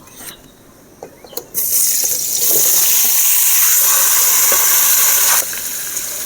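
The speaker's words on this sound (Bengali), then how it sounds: "ওই কড়াতে তেল দিয়ে আমি এঁচোড়টা ভেজে নেব।" Young jackfruit drops into hot oil in a wok. After a few quiet clinks, a loud, steady frying hiss bursts up and holds for several seconds before easing off; no voices.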